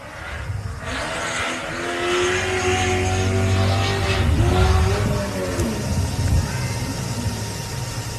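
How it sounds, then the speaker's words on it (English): A Joe Gibbs-built V8 race car engine revs loudly at the Loveday 400 off-road race at Loveday 4x4 Adventure Park, rising and falling in pitch as it accelerates, with a steady roar throughout. "And listen to that Joe Gibbs V8 power by Robinson"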